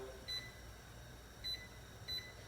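A kitchen timer being set while strawberry jam boils, giving three short, quiet electronic beeps spaced apart over a faint steady background hum.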